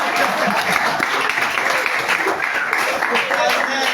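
A church congregation applauds and claps together in praise, a steady, loud, continuous wash of clapping from a crowd filling the whole moment without a break.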